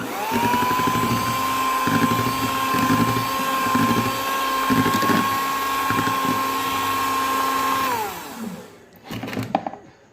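An electric hand mixer whirs steadily through cake batter flavoured with vanilla essence for a birthday cake, a continuous loud motor whine close up before it winds down and cuts off near the end, followed by a few clatters.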